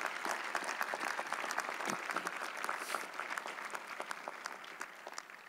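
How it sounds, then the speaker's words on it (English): The audience at Marist College's 2015 commencement breaks into sustained applause. Many hands clap in a dense, even wash that holds at a moderate distance, then tapers slightly toward the end. "Let's have a round of applause for them"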